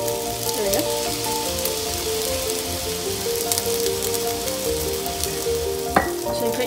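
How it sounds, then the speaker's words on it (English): Soy sauce hits a hot frying pan, giving a loud continuous sizzle with stirring scrapes and a sharp clink near the end, no voices. "Now, you get your soy sauce and add only a little bit."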